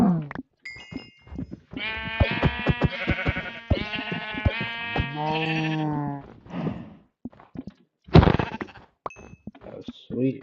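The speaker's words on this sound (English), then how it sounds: "Oh, cows." Cows on a farm call out on New Year's night in long, drawn-out, overlapping moos, close and fairly loud, with shorter grunts between and one sharp louder call near the end.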